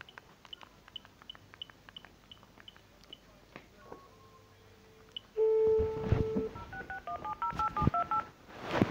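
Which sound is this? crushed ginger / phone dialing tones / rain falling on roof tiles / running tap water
phone dialing tones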